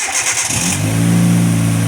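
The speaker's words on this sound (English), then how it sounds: "car starts right up" A car engine, boosted by an Acmount portable jump starter, cranks briefly and then catches, settling into a steady, loud, close idle hum for the rest of the moment with no talking.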